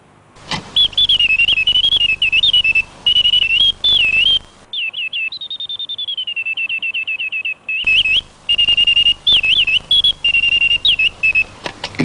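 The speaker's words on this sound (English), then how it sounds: "the bird's trill is produced on the penny whistle principle, with wind from a tiny pair of clockwork-operated bellows" A clockwork automaton bird sings a bright trill through a tiny penny whistle fed by clockwork-driven bellows, warbling in rapid repeated phrases, pausing briefly, then sliding into a falling chirp series before the lively trilling resumes, close and clear.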